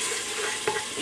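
Onions frying in olive oil in a pressure cooker pot give a short, soft sizzle with a scrape of stirring partway through, close but fairly quiet.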